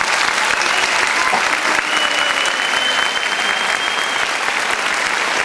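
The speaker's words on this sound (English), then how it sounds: "So can we thank the speaker again with our fantastic applause?" A lecture audience gives sustained applause after an academic talk on the neurodevelopmental effects of cannabis. The clapping is thick and even, with a faint steady tone running beneath it.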